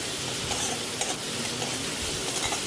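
Spice paste with salt, cumin and coriander powder stirred in a pan for a Bengali fish-head curry, a continuous close sizzle with soft scraping movements throughout and no voices.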